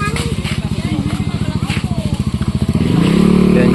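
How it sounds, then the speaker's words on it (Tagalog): A Honda Click version 3 motorcycle engine runs close by with a steady, rapid low putter, then revs up louder and smoother near the end. "Ito nga po pala guys yung service ko, yung motor ko. Ito. Honda Click version 3."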